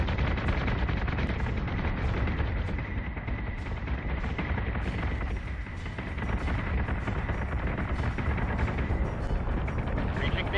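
Warship secondary battery guns in Battlestar Galactica Deadlock fire in a dense, continuous barrage, rapid loud reports packed together for the whole stretch with no pauses.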